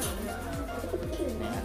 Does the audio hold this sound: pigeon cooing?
yes